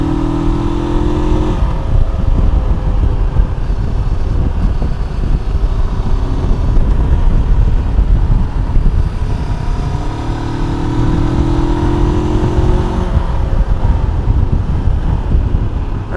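Rieju 500 Aventura motorcycle ridden on a winding mountain road, its engine droning steadily with shifting revs and heavy wind rush over the microphone throughout, no talk.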